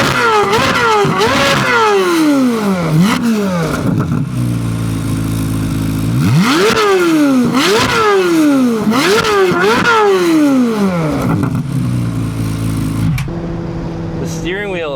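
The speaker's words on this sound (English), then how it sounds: "the exhaust, even in tour, is really loud, but when you pop it into sport and track, it just gets next level loud" A C8 Corvette Z06 in sport mode blasts a very loud exhaust through repeated hard revs, rising and falling in quick pulls before settling to an idle rumble near the end.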